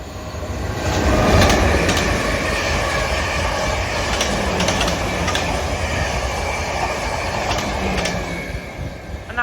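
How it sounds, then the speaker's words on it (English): A South Western Railway passenger train, a Weymouth and Poole to London Waterloo service, rumbles through a station. Wheels clatter rhythmically and rails squeal faintly, loud and steady throughout with no voices. "Passing through now is a South Western Railway service from Weymouth and Poole to London Waterloo."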